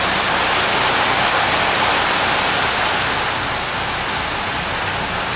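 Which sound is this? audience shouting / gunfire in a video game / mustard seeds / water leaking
water leaking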